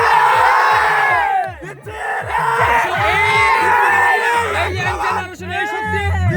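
A crowd at a traditional village game in rural Bangladesh roars and yells in loud, repeated rhythmic bursts of cheering, close and dense, with whoops rising over the mass of voices throughout.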